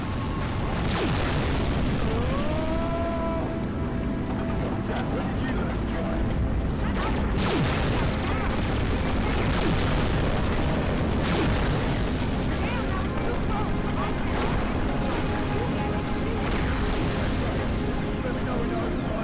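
Explosions and heavy weapons fire from a vehicle battle in the video game Carrier Command: Gaea Mission, a dense, continuous barrage of booms and blasts under a steady loud rumble, with tonal game sounds briefly rising early on.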